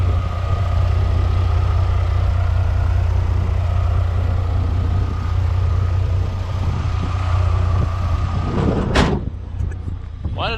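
A cheap 4x4 truck idles with the hood open, its engine giving a steady low rumble with no knocking, and a brief clatter comes near the end.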